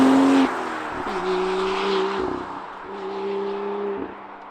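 Car exhaust drones inside a dark cabin with an open sunroof, a steady low tone rising and falling with two or three throttle changes, close and loud with no talk.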